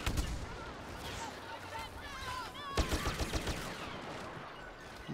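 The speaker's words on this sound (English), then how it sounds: "This pistol's OP." Pistol gunfire in the Star Wars Battlefront beta video game: a quick run of sharp blaster shots fired in succession over ambient battle noise, with a player talking nearby.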